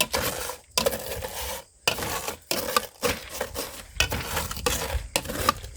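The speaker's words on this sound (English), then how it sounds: "just dump them in this bowl, and then use a jar to crush them" Eggshells in a bowl being crushed with a jar, giving continuous close crackling and grinding with brief pauses between presses, loud and alone.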